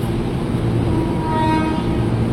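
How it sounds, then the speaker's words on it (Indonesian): KRL commuter train bound for Tambun, a 12-car set, at Jatinegara station in Jakarta: a steady rumbling rail noise with faint tonal horn lines rising midway, fairly loud and continuous with no talk. "Wes, menggoda sekali klaksonnya."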